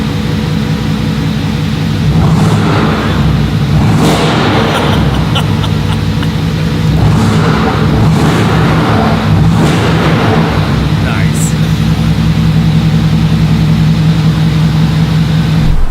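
A Mercedes-AMG GT4 race car's engine drones loudly and continuously on a track, with repeated swells as it revs up and shifts, plus steady interior road and engine hum throughout.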